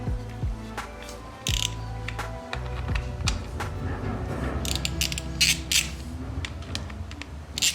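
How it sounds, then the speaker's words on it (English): A hand ratchet with an 8mm socket backs out the oil filter cover bolts on a 2021 Yamaha YZ250F, giving close, quick clicking runs mixed with metallic tool clinks, and no talking. "Next thing we're gonna do is remove this oil filter cover so we can remove our oil filter using an 8mm socket."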